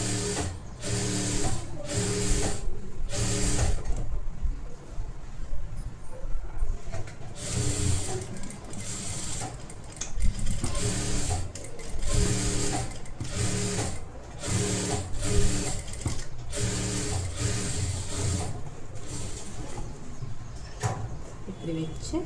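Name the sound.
sewing machine stitching a blouse collar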